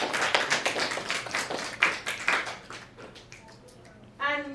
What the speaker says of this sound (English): So can we give a round of applause to